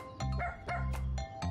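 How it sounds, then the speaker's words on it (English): An animated cartoon dog barks several times in quick succession, short, bright, tonal woofs close up with brief pauses between them. "There's a dog."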